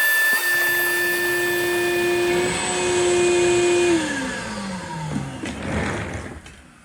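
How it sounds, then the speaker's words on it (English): A vacuum cleaner motor whines steadily nearby, its pitch dropping as it winds down, followed by some shuffling and clatter. "so I'm going to vacuum this out"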